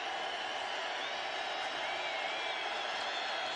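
A football stadium crowd at an Atlanta Falcons home game against the San Francisco 49ers on third down: a steady, distant roar of massed voices with faint whoops, holding level and unbroken throughout.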